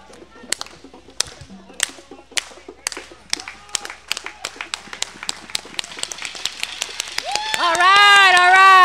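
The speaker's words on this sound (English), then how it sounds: "This is the United Farm Worker United Clap, which they do at every event." A crowd performs the United Farm Workers unity clap at an event: single sharp claps, slow and widely spaced at first, then steadily speeding up into rapid clapping that swells into applause, with voices and whoops rising over it at the end.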